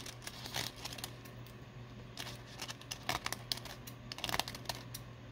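Scissors trim the edges of a sheet of handmade faux rice paper, giving quiet, scattered snips and soft crinkles close by, with no talking.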